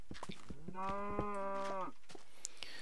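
A Minecraft cow gives one drawn-out, clear moo lasting about a second, preceded and followed by soft clicks and game sounds.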